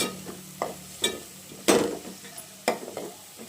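A masala paste of coriander, coconut and poppy seeds fries in oil, heard as a low sizzle with several distinct scraping and clinking stir strokes against the pan, close by.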